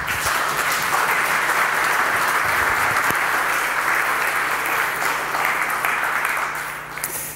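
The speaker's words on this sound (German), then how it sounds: "Bitte heißt ihn mit einem herzlichen Applaus willkommen." Warm applause from a conference audience welcoming a keynote speaker on open-source software and global surveillance, a dense steady clapping that fills the hall and fades out near the end.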